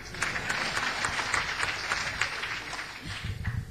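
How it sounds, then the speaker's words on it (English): Audience applause at a live college event, a moderate, fairly distant wash of steady clapping lasting a few seconds. "You're applauding yourself."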